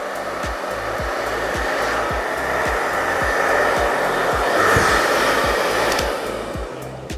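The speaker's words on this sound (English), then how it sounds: "And that's just with the blow dryer." A hair dryer blows steadily and loudly, its constant whooshing airflow carrying a low pulsing motor hum.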